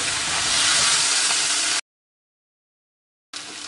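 A sauce of coulis cooks in a pan for a beef sauté, a close, steady bubbling hiss that cuts to silence partway through and then returns.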